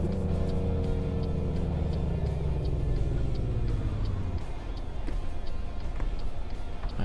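A heavy truck engine drones loud and steady in American Truck Simulator, its pitch sliding down as the gears shift lower mid-way, then carrying on with a continuous rumbling tone.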